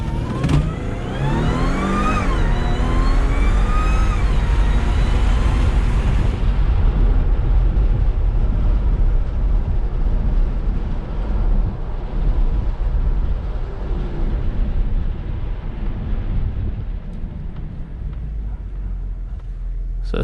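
An Audi A6 with a ZF8 automatic transmission accelerates hard in sport mode from a brake-torqued launch with traction control off, its engine note climbing loud and close through rising pitch sweeps before settling into a steady roar.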